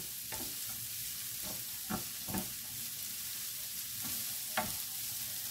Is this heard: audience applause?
no